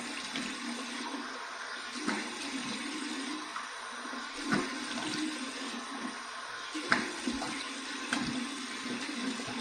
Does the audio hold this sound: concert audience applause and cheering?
no